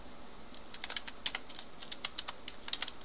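Fingers tap a computer keyboard while a page title is entered into a form, producing a quiet, irregular run of distinct clicks, some in quick pairs, alone over faint room hiss.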